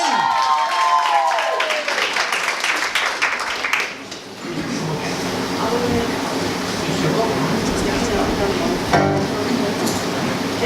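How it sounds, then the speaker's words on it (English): Audience applause and cheering for a young girl contestant at a talent show semi-final, a crowd noise over voices for a few seconds before blending into a broad, sustained hall roar with music-like tones. "give this very confident young girl a massive round of applause"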